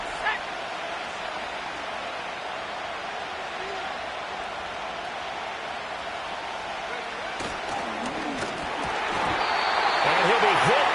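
A stadium crowd in a football video game roars on its feet before a 3rd-and-7 play, a dense, steady wall of noise that swells louder near the end, with a commentator's voice over it.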